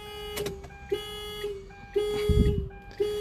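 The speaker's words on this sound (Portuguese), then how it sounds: "Não parou a buzina ali, hein? Disparou." Car alarm horn honking in short, evenly spaced blasts, about six in a row, fairly close, with some handling noise between them, at a car auction.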